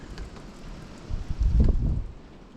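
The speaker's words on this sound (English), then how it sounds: "Windy as shit, raining hard." Strong gusts buffet the microphone outdoors during a Christmas 2022 Arctic storm with hard rain, the wind swelling into a louder rushing burst near the middle before easing, with a soft patter underneath and no speech.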